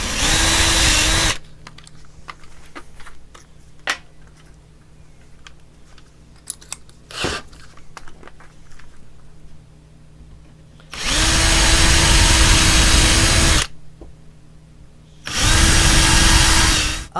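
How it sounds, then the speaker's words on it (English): Three bursts of a power drill whirring loudly into a wooden cigar box guitar headstock, a long one at the start and two later, separated by quieter workshop noise with small knocks. "I'm only drilling down from the front of the headstock a 1/4 of an inch."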